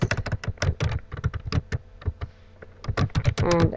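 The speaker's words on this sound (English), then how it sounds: "So I'm going to type in Merry Christmas" Fingers type quickly on a computer keyboard, a close run of crisp, uneven key clicks with a brief pause midway.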